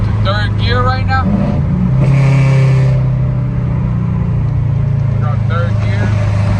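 A Subaru STI with a catless downpipe and exhaust drones loudly and steadily through the low end while being driven through the gears, with brief voices over it at the start and end.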